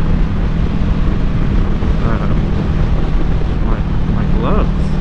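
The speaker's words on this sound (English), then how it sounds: "So I'm riding and I'm just getting a bunch of wind" Strong wind buffets a rider on a Kawasaki ZX14R motorcycle, a loud continuous rushing roar with a faint engine hum beneath it and no talking.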